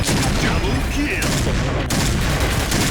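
Rapid gunfire from a Barrett rifle in a video game forms a dense, loud, continuous wall of shots and booms, with a voice faintly underneath.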